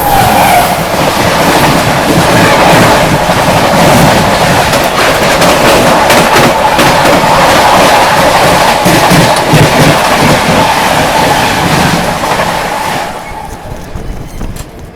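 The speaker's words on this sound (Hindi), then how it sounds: "ये थी अपनी नई दिल्ली सोगरिया इंटरसिटी।" The New Delhi–Sogaria Intercity train races past at speed near Faridabad, a loud, close, continuous rumble with rail clatter that holds steady for about thirteen seconds, then fades away.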